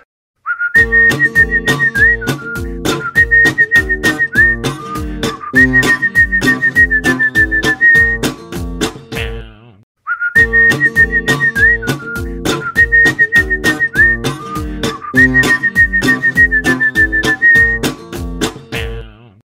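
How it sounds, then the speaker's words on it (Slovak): A person whistles a melodic tune over steady instrumental backing in a Slovak song, the same whistled phrase played twice, loud and close. "Ale aj tak si pískam."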